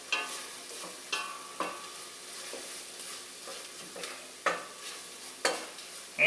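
Garlic sizzles steadily in a hot pan, broken by several sharp scraping knocks as it is stirred, each stroke loud and close with the frying hiss running continuously between them.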